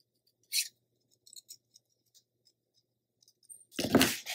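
Scissors cut a green paper leaf off a craft folio: a brief crisp snip, some faint ticks and rustles of paper, then a louder longer cutting crunch near the end, close and otherwise quiet.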